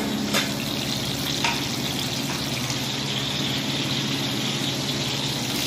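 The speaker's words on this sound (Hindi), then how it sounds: "ये देखिए जी चिकन चाउमीन बन रहा है" Chicken chow mein fries in a pan in a home kitchen. A loud, steady sizzle runs continuously and uninterrupted throughout.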